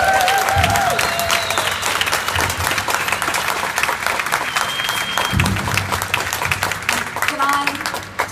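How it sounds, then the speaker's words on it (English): A crowd at an evening arts event applauds the artists with loud, sustained clapping, while people talk and call out underneath and brief tonal sounds cut through the noise. "Can we give them all a round of applause?"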